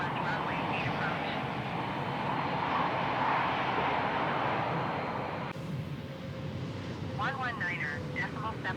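Spirit airliner coming in to land in Microsoft Flight Simulator 2020 at Phoenix Sky Harbor, a steady loud roar of jet engines and rushing air that drops away abruptly midway, followed by faint radio chatter over a lighter hum.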